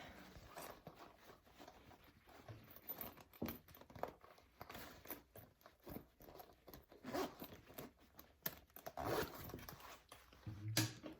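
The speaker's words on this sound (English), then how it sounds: "I gotta move my zipper out of the way." A zipper on a sewn bag is slid aside, giving repeated short rasping pulls mixed with fabric rustling and crinkling, close and fairly quiet over about eleven seconds.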